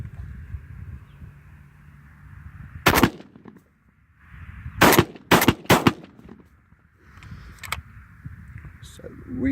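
A Hatfield USA12C camo shotgun fires Winchester 1 1/8 ounce number 2 steel shot loads at a range, with a single loud blast followed by a tight burst of three rapid shots between stretches of quieter background noise and murmuring.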